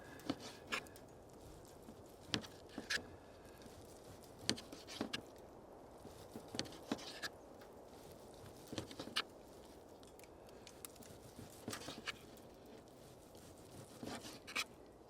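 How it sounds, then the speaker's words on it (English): Graupel pellets dropping from a tree after the season's first snow, ticking in scattered, irregular light taps over a steady low outdoor background, with no talk. "Got some grapple hail balls falling on me"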